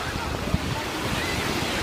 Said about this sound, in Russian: Небольшие волны